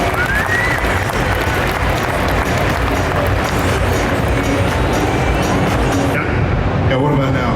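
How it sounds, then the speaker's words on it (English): An audience at the Arnold UK event applauds guest of honor Sam Sulek as he comes to the stage, a loud, dense, unbroken wash of clapping and crowd noise that holds steady throughout before thinning near the end. "how about a big round of applause for Sam Sulek"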